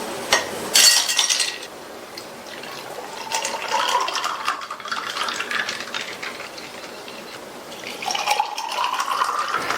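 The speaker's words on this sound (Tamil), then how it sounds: "ஃபர்ஸ்ட் இதுல ஐஸ் கியூப்" Ice cubes clatter and clink into a glass, followed by carrot tomato juice poured in with a rising gurgling fill. The sounds are close and fairly loud, and a second pour swells at the end.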